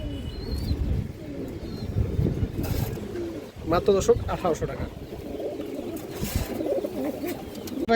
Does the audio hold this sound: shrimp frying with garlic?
no